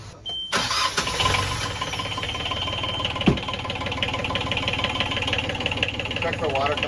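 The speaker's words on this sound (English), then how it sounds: "It's okay to start the engine?" A boat's inboard engine cranks and catches after a brief pause, then settles into a steady, close, knocking idle, with a voice speaking briefly partway through.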